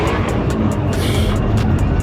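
Chevrolet Corvette at a lively car meet, its engine a steady low rumble running throughout amid broadband crowd and traffic noise, loud and continuous with no distinct revving peaks.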